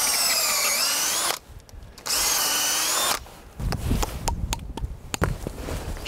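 A power drill bores into a maple tree trunk to tap sap, in two steady whining bursts. Louder knocking and crunching of wood follow outdoors.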